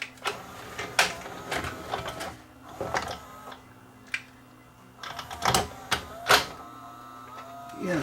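Tray mechanism of a Pioneer CLD-D502 laserdisc player runs with whirring motor hums and sharp clicks and clunks, close and intermittent over a faint steady background hum.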